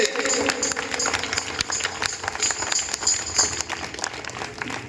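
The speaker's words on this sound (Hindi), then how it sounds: "और जोरदार ताली प्रभु यीशु मसीह के लिए।" A crowd applauds at a church Christmas program in Ojhar, Nashik, with sustained, busy clapping that carries on without a break, near and fairly loud.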